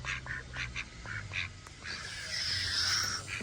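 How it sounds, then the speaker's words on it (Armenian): Ducks near a forest pond quack close by in short, repeated bursts, followed by a longer, harsher call over a quiet outdoor background. "Նայեք, ինչ մոտիկ են եկել ժողովուրդ բադիկները։"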